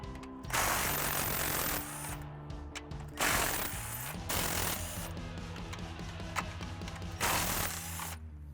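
A ratchet wrench removing intake manifold bolts on a car, with several bursts of fast close clicking separated by short pauses and quieter handling noises, and no talking.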